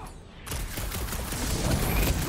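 Rapid gunfire in Marvel's Guardians of the Galaxy, a dense continuous barrage of shots and booms that starts abruptly and stays loud, with game sound effects layered over it.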